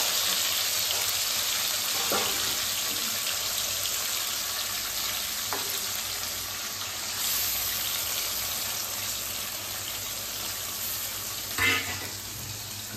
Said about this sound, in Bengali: একটু জল দিয়ে দেবো এবার।